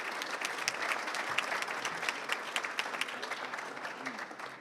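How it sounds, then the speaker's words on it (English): An awards gala audience gives a round of applause for past directors, dense clapping holding steady throughout at moderate loudness. "Please give our past directors a nice round of applause for their years of service."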